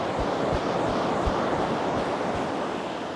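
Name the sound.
ocean waves surf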